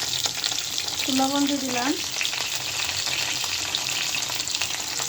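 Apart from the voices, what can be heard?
pointed gourd (potol) frying in oil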